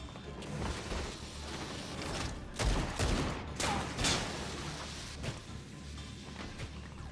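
Gunfire in Final Fantasy XIV, a rattling volley of shots and mechanical clatter with a couple of louder bursts, steady game action throughout.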